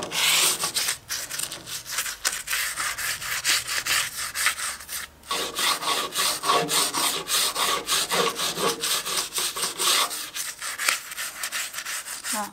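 Chimney bricks being scrubbed with a toothbrush, repeated close rasping strokes in a steady back-and-forth rhythm over several seconds with a brief pause midway.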